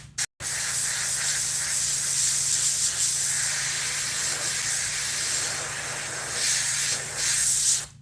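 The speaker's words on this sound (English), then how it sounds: "we're just going to spray so I have a line" Aerosol spray paint hissing steadily onto a musky crankbait fishing lure, a continuous close spray with a brief break at the start and small surges near the end.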